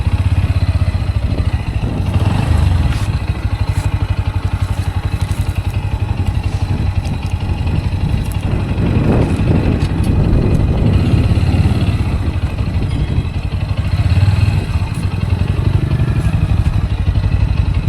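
A motorcycle engine idles steadily and loudly up close while parked at a roadside stop in Chikkaballapur, a continuous rumble with light mechanical clatter throughout.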